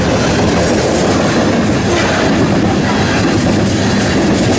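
A short freight train with a rear DPU locomotive passes close by in Nebraska, loud continuous rumble with rhythmic clickety-clack of wheels over rail joints throughout.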